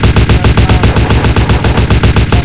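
Rapid automatic gunfire in the video game CrimeLife 3, a loud sustained burst of evenly spaced shots repeating without pause, close and alone with no talk.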